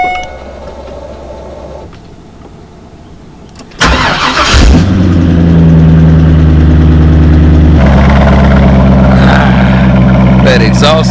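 A Chevrolet Corvette engine fires up loudly after a quieter start, then settles into a deep, steady idle with rumbling exhaust that stays close and strong to the end.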